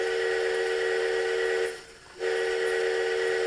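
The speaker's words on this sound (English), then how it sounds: "And there's his default whistle." A default steam whistle from a Kato N gauge sound box plays as a steady, loud, shrill tone with a brief dip in the middle before resuming, with a faint hiss underneath.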